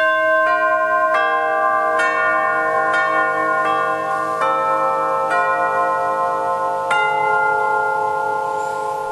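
Bells ring out in a slow series of roughly nine evenly spaced strikes, each tone ringing on and blending into the next, clear and unaccompanied.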